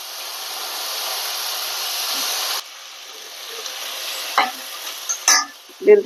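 Potato pieces frying with browned onions in a pan for a puri curry, with a steady close hiss that drops when they go in, followed by a few sharp stirring scrapes and knocks.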